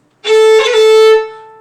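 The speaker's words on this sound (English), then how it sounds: "That's a fake roll on an open string." A single bowed fiddle note on an open string, starting with a quick crackling fake-roll ornament and then sustaining bright and steady before fading out.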